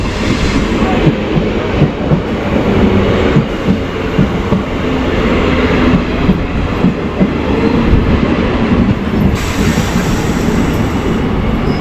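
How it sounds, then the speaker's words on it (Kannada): A train pulls into Kempegowda International Airport station in Bengaluru, a loud, close rumble of wheels on rails with rhythmic clacking and occasional squeals, continuous throughout, with no speech. "ಸೊ ಇವಾಗ ನೀವು ನೋಡ್ಬೋದು ನಮ್ಮ ಟ್ರೈನು ಸದ್ಯಕ್ಕೆ ಕೆಂಪೇಗೌಡ ಇಂಟರ್ನ್ಯಾಷನಲ್ ಏರ್ಪೋರ್ಟ್ಗೆ ರೀಚ್"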